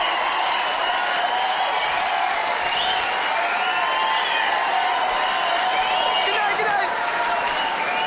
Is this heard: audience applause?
yes